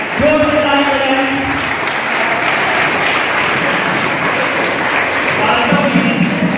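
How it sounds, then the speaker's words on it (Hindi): A hall audience gives loud, sustained applause for youth parliament competition participants, dense clapping throughout with a voice speaking over it near the start and end. "जोरदार तालियां हो जाए इन सभी पार्टिसिपेंट के लिए।"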